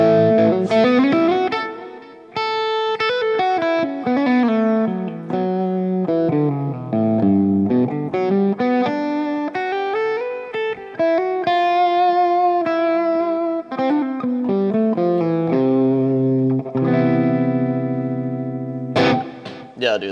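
Electric guitar through a Fender Tone Master Pro with a delay effect, a melodic run of single notes and chords whose repeats trail behind each phrase, played alone and fairly loud.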